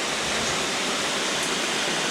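Kohler handshower spraying water in a shower, a steady, dense hiss of falling spray that continues unbroken and fairly loud, with no voices.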